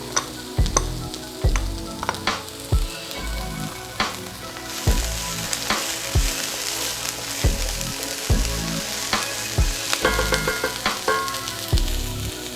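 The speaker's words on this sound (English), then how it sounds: "now I'm gonna add my green onions, the white part of the green onions" White parts of green onions frying and being stirred in a pan, a steady close sizzle with repeated scraping and tapping strokes throughout, no voices.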